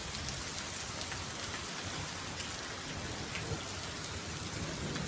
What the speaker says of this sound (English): It is raining so hard.